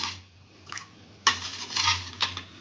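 A spoon stirs a pot of colostrum milk pudding with sugar and nutmeg powder, giving a few scattered metallic clinks and scrapes against the pot at a quiet level.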